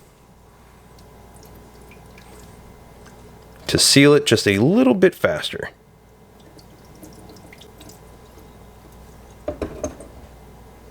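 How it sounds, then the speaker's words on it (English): Water is added over a coral frag glued to its plug for an aquarium, giving a burst of splashing and trickling a few seconds long, with a brief drip later and someone talking before it. "you can always go ahead and add some water to the area"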